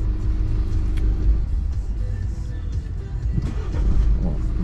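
A quad bike engine running with a steady low rumble, nearby and fairly loud, the idle swelling slightly toward the end with no talk over it.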